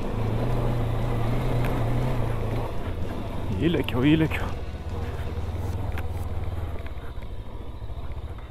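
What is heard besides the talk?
JAWA RVM 500 Adventure motorcycle riding on sandy trail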